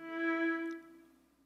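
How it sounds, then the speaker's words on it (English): A single long grain from Borderlands Granular synthesis software: one sustained harmonic tone that swells up, holds briefly and fades into a soft tail, heard alone. "So a single grain, a longer grain would sound like this."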